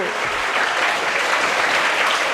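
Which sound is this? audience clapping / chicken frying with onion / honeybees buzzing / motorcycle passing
audience clapping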